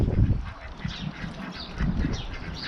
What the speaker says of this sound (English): And that very tall duck by there, that's Forrest.